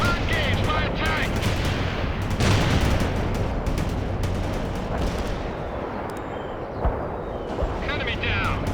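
Dense continuous battle din from tank gunfire and artillery in the real-time strategy game World in Conflict, with loud booming blasts and rumbling over sustained noise, plus a few sharper reports; radio-style voices speak at times.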